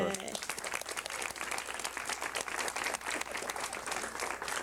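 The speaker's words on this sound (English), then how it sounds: "Let's give them that great round of applause." City council meeting audience giving a round of applause, dense clapping throughout with a voice speaking over it near the start.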